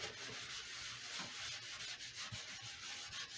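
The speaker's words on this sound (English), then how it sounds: "Either way, I got it sanded" Sandpaper rubs steadily around the sound hole of a redwood guitar top, a continuous faint scratchy hiss with slight rhythmic strokes and no talking.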